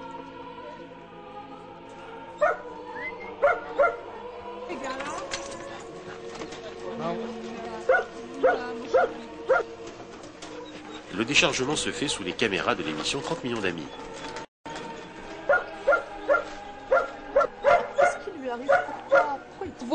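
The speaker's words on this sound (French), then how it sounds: "Les chiens sont superbes." Greyhounds freed from a closed racing track in Rome bark and yip in repeated sharp bursts after being unloaded from transport, while whimpers and a crowd of other dogs join in. A narrator talks over much of it.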